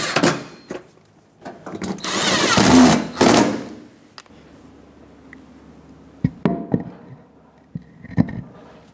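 Screws are driven along the fender of a 2000-2005 Ford Excursion with a power driver, giving a loud whirring burst of a couple of seconds and then scattered clicks and taps from the fastening work, with no talk.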